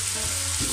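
Tomatoes hit a hot frying pan with a loud, close, continuous sizzle that swells slightly in the final moment.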